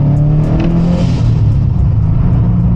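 A Subaru WRX STI engine rumbles loud and close as the car drives, a deep steady drone with slight rises in revs and no talking.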